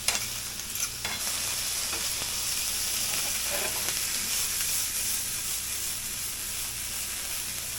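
Meat frying in a pan for breakfast tacos while being stirred, a loud continuous sizzle with scraping stirs near the start.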